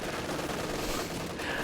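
Pintle-mounted machine gun on a Panzer IV firing in a World War II strategy game, a dense, steady spatter of gunfire mixed into a busy battle din that stays loud throughout.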